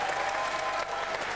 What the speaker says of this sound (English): Big round of applause for Mark Skaife, Brad Jones.